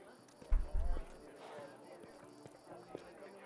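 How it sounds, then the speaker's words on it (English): A horse's hooves in the video game Pathfinder: Wrath of the Righteous, a few soft clip-clop steps under steady game ambience, with a low thump near the start and a voice talking faintly. "That's just the horse."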